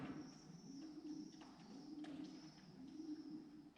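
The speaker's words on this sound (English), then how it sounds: "Heard footsteps going across the roof. It was pigeons." Soft, low pigeon cooing repeats in a steady rolling pattern, with a few faint taps and scratches of pigeons on the roof above against a quiet background.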